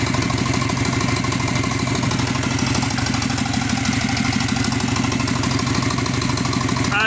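A Subaru Forester SG9 with an EJ255 turbo engine idles steadily after running for some time, a continuous even rumble with a regular pulsing beat, close and alone without voices.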